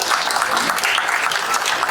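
Audience applause in a Tamil lecture hall, steady dense clapping of a moderate crowd, loud and continuous for about two seconds with no talk over it.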